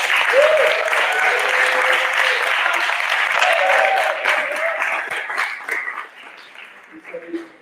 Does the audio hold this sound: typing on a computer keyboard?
no